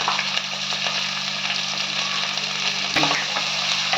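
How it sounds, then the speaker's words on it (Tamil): Onion, green chili and curry leaves frying in hot oil with fennel seeds for garlic chicken. A continuous close sizzle holds steady throughout, with no voices. "வெங்காய பச்சை மிளகா போட்டுக்கலாம் கொஞ்சம் கருவேப்பிலை"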